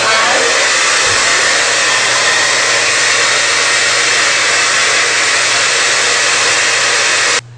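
A hot air brush hair dryer set to high blows with a loud, steady, close roar that holds constant for about seven seconds and then cuts off abruptly.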